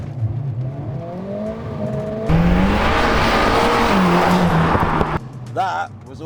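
A car with a custom exhaust back box launches hard, its engine revving and rising in pitch through a loud, roaring surge of acceleration before easing off; voices are heard at the end.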